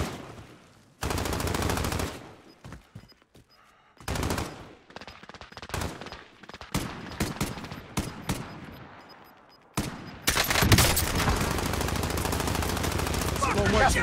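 Rapid automatic gunfire rattles in Call of Duty Warzone, bursts of dense shots broken by short pauses, then a sustained heavy barrage near the end.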